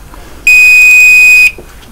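A water presence detector's beeper gives a single loud, shrill electronic tone lasting about a second, close by, with nothing else around it.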